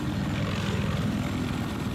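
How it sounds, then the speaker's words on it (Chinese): Helicopter in the video game Battlefield Heroes, a loud, steady rotor thrum with rapid pulsing chop heard close and continuous for a brief moment. "直升机"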